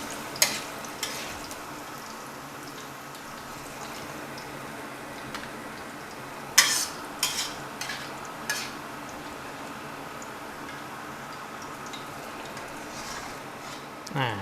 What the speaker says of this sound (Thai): เราจะทอดมาแค่พอให้ขิงมันสุกสลดนะครับ ไม่ต้องทอดถึงกับเหลืองกรอบนะครับ